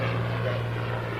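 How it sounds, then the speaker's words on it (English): A Rolls-Royce Heritage Flight Mustang with a Merlin engine makes a fly past at an air festival, heard as a steady, droning propeller engine roar filling the short moment. "The Rolls-Royce Heritage Flight do so particularly nicely, and we're about to see one here on this fly past."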